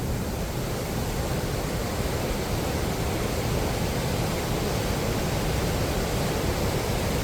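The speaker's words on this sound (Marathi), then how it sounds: "खूप सुंदर असा धबधबा आहे" Dense, steady rushing of a waterfall at Vikhare Gothane fills the clip at constant loudness, a broad unbroken roar with no pauses or voices.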